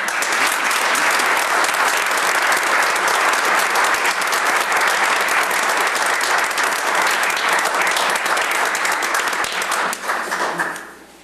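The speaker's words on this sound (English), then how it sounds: "And you can applaud right now." Audience at a village board meeting applauding an award, dense sustained clapping from a roomful of people, loud and even, tapering off at the end.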